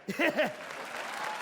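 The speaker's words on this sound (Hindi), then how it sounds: "तालियां" Studio audience applause on a comedy show set, starting after a brief burst of speech and settling into a steady, moderate clatter of clapping that holds to the end.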